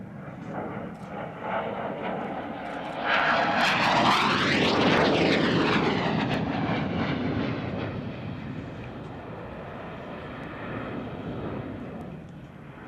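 A Harrier jump jet warplane passes at Kemble Airshow, its roaring engine swelling loud and close with a sweeping whine as it goes by, then easing into a steady, fading rumble.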